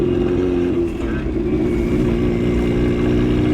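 A turbocharged Mazda Miata engine drones loud and steady in third gear, a thick low growl holding nearly constant pitch with a brief dip partway through.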